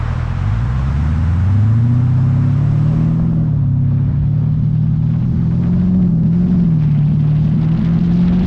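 A Porsche Cayenne Turbo with a muffler delete accelerates on a public road, its engine note rising in a loud steady exhaust drone that climbs through the gears, close and continuous with no talk.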